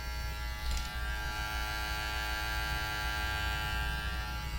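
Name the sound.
cheap Temu electric shaver running on first gear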